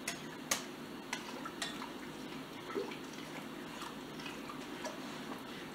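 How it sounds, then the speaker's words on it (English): Yeast mixture for cinnamon roll dough stirred in a bowl, heard as faint, irregular clinks and light scraping ticks against a steady low background hum. "Give this a stir"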